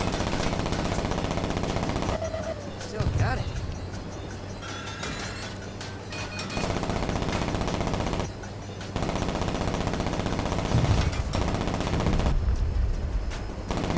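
Automatic gunfire in the Saints Row reboot video game, long rattling bursts of rapid shots broken by short pauses, loud and close, with engine and mechanical noise between volleys.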